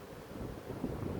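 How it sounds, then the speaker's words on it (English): Wind gusts buffet the microphone during an outdoor beehive inspection in Australia, a low rumbling roar that swells toward the end of the short stretch. "it's always windy"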